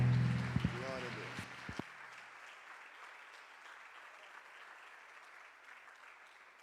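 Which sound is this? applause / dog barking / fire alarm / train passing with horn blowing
applause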